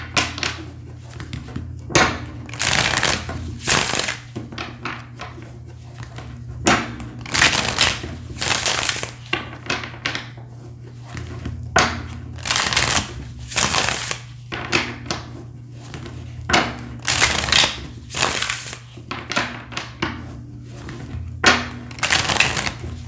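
Tarot cards are shuffled by hand in repeated rustling, riffling bursts at fairly regular intervals over a steady low background hum, with no talking.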